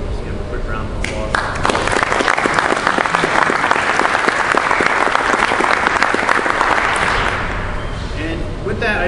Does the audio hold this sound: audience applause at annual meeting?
yes